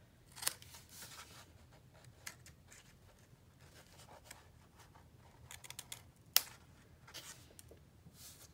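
Scissors snipping the corners of paper pages for a handmade mini album, soft scattered cuts and rustles close by, with a couple of sharper snips standing out against a quiet background.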